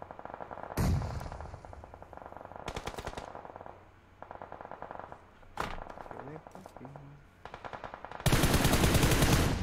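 Bursts of automatic rifle fire from the P4 gun in PUBG Mobile rattle out in several rapid strings separated by short pauses, with a sharp single shot midway and a loud, dense burst at the end.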